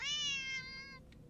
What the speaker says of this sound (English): The cat sounds annoyed with you.